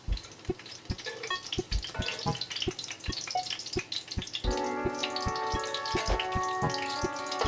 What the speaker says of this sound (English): The benefit of frying these slow and low is that the inside has plenty of time to cook.